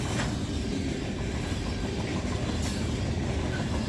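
A CN freight train with boxcars rolls past, a steady, loud rumble with faint clacking of wheels on the rails and no voices.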